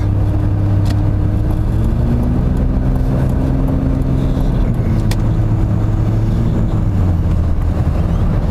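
A BMW E36 325i carrying four people, heard from inside the cabin, gives a loud, continuous engine drone with road rumble and slight pitch swells as it keeps moving, with no voices.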